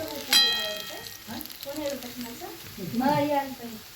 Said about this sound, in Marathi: बघा छान तळायला लागली आता भजी